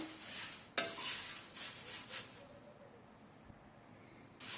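Puffed rice (muri) is stirred as it dry-fries in a pot, giving a few soft scraping strokes and a sharp clink near the start, then quiet, faint rustling; the sound stays low and close.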